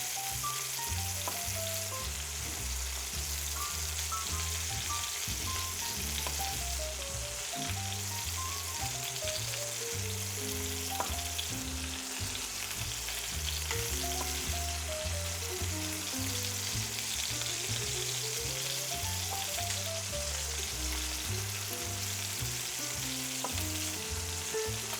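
Chicken breasts, cut in half, sear in a hot pan with a constant dense sizzle and crackle, steady and close throughout, with faint background music underneath.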